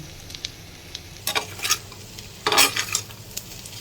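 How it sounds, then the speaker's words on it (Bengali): Ground cumin, red chili and coriander with sugar stirred and fried with pointed gourd in a pan, a low sizzle under bursts of spatula scraping and clatter against the pan, close by, no speech. "সব কিছু একসঙ্গে মিশিয়ে নিয়ে দু মিনিট একটু কষিয়ে নেব"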